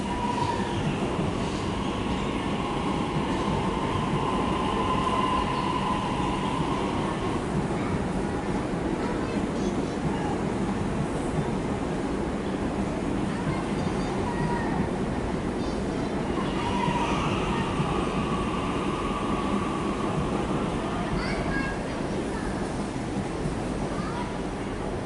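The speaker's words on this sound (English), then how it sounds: "It's high capacity train set number" A Melbourne high capacity (HCMT) train set moving through Flinders Street station, a steady rumble of rolling stock with tonal whines and brake squeals rising and fading, with occasional talk nearby.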